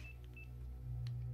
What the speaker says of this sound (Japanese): 電話の押すボタンってさ、なんか違うみたいだよね、あのドレミファソラシドみたいなので